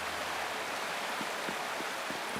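A waterfall in the Wuthering Waves video game gives off a steady, even rushing hiss of falling water, soft and continuous, with no other sounds over it.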